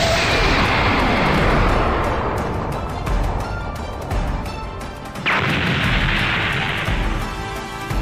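Massive roaring blast from a desperate last energy attack in Dragon Ball, a sustained loud rumbling explosion that swells, dips, then surges again with a second wave of crackling noise.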